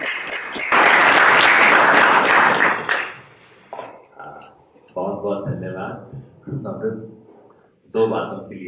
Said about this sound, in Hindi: तालियों की जोरदार गड़गड़ाहट